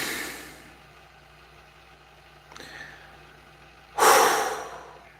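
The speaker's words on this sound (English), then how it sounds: "Let me just take a deep breath." A single deep breath is drawn in and let out, faint at first, then ending in a loud, close rush of exhaled air, from a man trying to calm himself.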